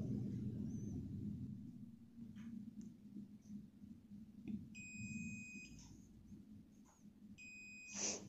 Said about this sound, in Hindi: इसे इस डायरेक्शन में ही बीप साउंड देना चाहिए जैसे ये दे रहा है